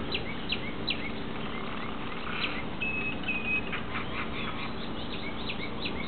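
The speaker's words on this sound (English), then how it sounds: "Hear the birds." Ducks quacking and birds calling in quiet countryside beside a cottage on orchard land, short chirps and calls scattered over a steady low background hum, moderately distant and fairly faint.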